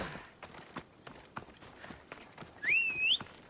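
A horse gallops in the video game Assassin's Creed Odyssey, its hooves thudding in a quick, soft rhythm, with a short rising whistle near the end.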